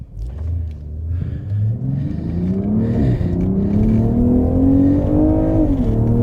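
A BMW Z4 accelerates away on a race track, its engine note climbing steadily through the revs in a loud, close, continuous rising roar with a brief gear-change dip partway through.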